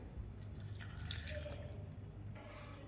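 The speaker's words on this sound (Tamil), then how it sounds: "இதில் உங்களுக்கு தேவையான அளவு தண்ணி ஊற்றிக்கலாம்" Water is poured into a blender jar holding chopped chayote, a soft trickling and dripping splash heard quietly and close, with no voices over it.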